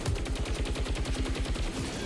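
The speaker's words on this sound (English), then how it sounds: "Can I shoot this one also?" Rapid automatic gunfire from the video game Saros, a steady burst of evenly spaced shots repeating about eight times a second for the whole stretch, loud and close, with no talking over it.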